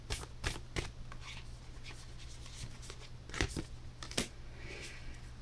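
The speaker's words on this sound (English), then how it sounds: "you hear me shuffling, and I obsessively do so." Tarot cards are shuffled repeatedly at close range, with crisp riffling bursts and soft rustling between them over a low steady hum.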